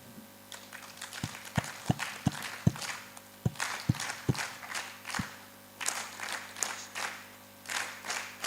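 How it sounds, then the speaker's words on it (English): A conference audience at an international public management event performs the Rwandan clap, a series of sharp, separated claps in an uneven rhythm that builds into scattered group clapping, moderately close in a hall. "So I would request again we do the Rwandan clap."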